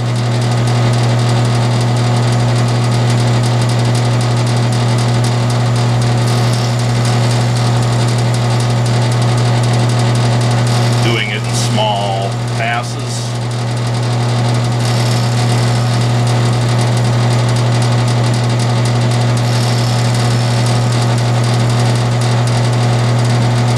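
A drill motor hums loud and steady for a long stretch while the bit drills a workpiece clamped in a vise, with a brief change in tone midway as it bites in.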